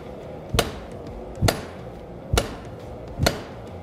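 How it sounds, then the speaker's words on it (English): A 3.5-pound hand hammer strikes hot mild steel at the forge, four sharp ringing blows spaced about a second apart, close and loud with no talking. "You can move it around with a hand hammer."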